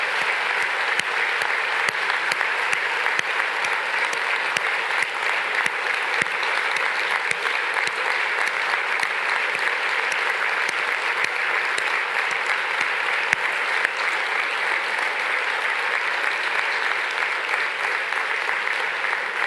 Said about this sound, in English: please join me in a big round of applause for the team